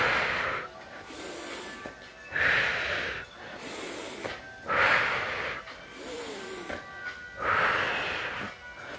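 Breathing during a Pilates standing abs exercise, four slow cycles of audible, airy inhales and forceful exhales at an even pace, close to the microphone, with no speech.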